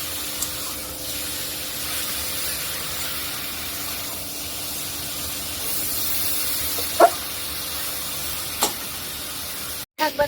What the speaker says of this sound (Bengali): শাকটা দিয়ে সুন্দর করে ভেজে নিব।